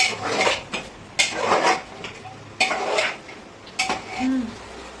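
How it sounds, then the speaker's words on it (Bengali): Mutton is stirred in a metal pot over a high flame, a ladle scraping and clanking against the sides in four loud rhythmic bursts close by, with faint frying underneath. "আর এইবার করতে হবে মিক্স। এটা কিন্তু হাই ফ্লেমেই করতে হবে।"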